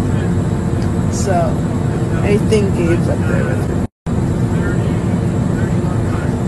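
Steady, loud engine roar fills the cabin of a private jet in flight, broken by a brief dropout. People talk under the constant hum.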